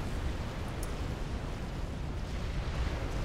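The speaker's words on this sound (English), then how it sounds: "these triads now under fire from MMLs, so mobile missile launchers" Mobile missile launchers fire in a Supreme Commander: Forged Alliance battle, a dense, continuous roar of overlapping blasts and rumbling explosions with no clear gaps.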